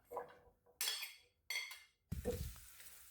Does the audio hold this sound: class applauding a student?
no